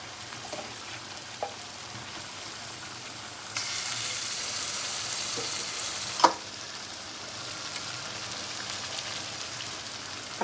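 Pieces of meat tipped into a pan of fried spices and salt for a Bengali meat curry, setting off a loud, steady close sizzle that swells as the meat goes in, with a clatter of stirring.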